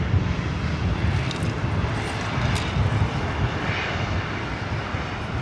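A Delta Air Lines Boeing 737-900ER on flight 959 bound for Atlanta gives a continuous loud jet roar, dense and even, heard close throughout.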